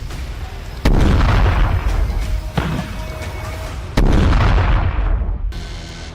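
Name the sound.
explosions from Fagot anti-tank missile strikes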